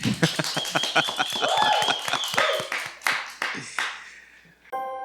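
A concert audience claps for the performer in a brief burst of uneven applause, while sustained tones and a few voices rise over it before the clapping thins out and fades.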